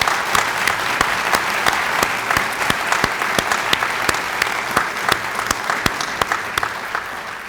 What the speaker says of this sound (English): let's give him another round of applause and welcome